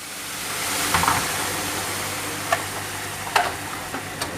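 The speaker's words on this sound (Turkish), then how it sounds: "Kaynamış suyumuzu döküyoruz." Boiling water poured into a pan of noodle rice with toasted erişte, giving a steady broadband sizzle and hiss with a few sharp pops and crackles scattered through it.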